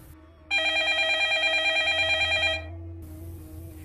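A telephone rings as a sound effect in a Bengali horror audio story, one sustained electronic trill of about two seconds, loud and close, then cutting off to quieter background.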